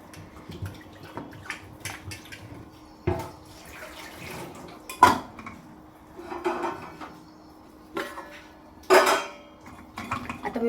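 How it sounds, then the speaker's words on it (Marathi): Metal pots and pressure cooker containers clatter and clank in a home kitchen as potatoes are loaded, with several sharp knocks spread over the clip and faint water sounds between, no talking. "आता मी बटाटा कुकरला लावताना काय करते"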